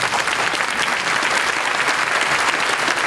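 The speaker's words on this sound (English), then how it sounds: "So please give her a round of applause." Steady, dense applause from a breakfast audience for the children's movement, filling the room without a break and without any speaking voice over it.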